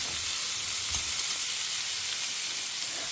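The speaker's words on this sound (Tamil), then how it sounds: "ஸோ அதனால் தேங்காய் எண்ணெயில் தான் தாளிக்கிறேன்." Grated coconut and green chillies sizzling in hot coconut oil while tempering, a steady close frying crackle and hiss with no talk, cooked as part of white chickpea sundal for Saraswathi Puja.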